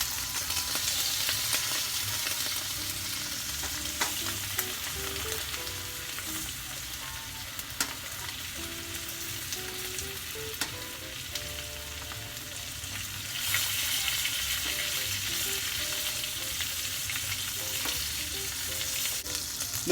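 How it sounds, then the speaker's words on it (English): Steak sizzles steadily in a hot pan while butter and oil with rosemary and garlic are spooned over it, a continuous close frying hiss with small scraping clinks from the spoon. "Now basting the butter oil mixture over our steak will give it more moisture, and it'll just lead to a juicier, tastier steak in the end"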